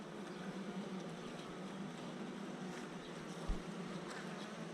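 Honeybees buzzing around an open hive, a faint continuous drone with a low steady hum beneath and one brief soft bump near the end.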